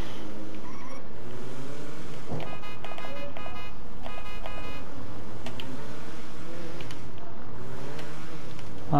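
A Volkswagen Beetle driving in GTA 5, a steady engine drone rising and falling with revs, with brief beeping tones partway through.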